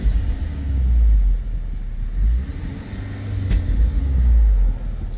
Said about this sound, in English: Downshifts and you get that burble.